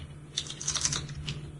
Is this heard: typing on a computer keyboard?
yes